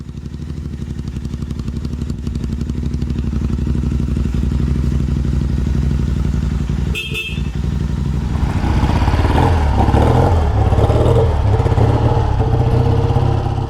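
A 1964 Triumph Thunderbird motorcycle engine runs steadily and loudly throughout, with a brief clatter midway before the rumble picks up and revs a little higher.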